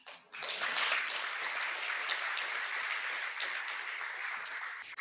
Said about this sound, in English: Oh, you can clap for that.